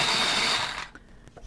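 A pencil is sharpened in one brief, close whirring grind that lasts under a second and is followed by faint small clicks.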